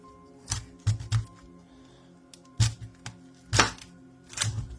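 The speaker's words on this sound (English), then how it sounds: "So we'll chop it first." Knife chopping red cabbage on a board, with a handful of sharp separate thunks in an uneven rhythm, close and clear against a quiet background.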